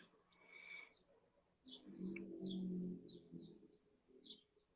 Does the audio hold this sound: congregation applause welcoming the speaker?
no